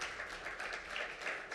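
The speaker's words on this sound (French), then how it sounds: "merci à Monsieur le ministre Kofi Nguessan, que je vous demande d'applaudir encore, s'il vous plaît, chaleureusement." Audience clapping for a minister at a launch ceremony in Senegal, a brief, soft, steady patter of many hands heard from a distance with no speech over it.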